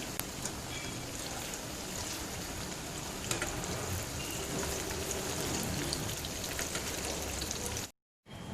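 Chicken pieces for chilli chicken fry in hot oil, a dense, even crackling sizzle like rain on a surface, with a few louder pops, before the sound cuts out briefly near the end.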